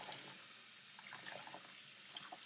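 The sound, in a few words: water rinsing soap out of an HRV filter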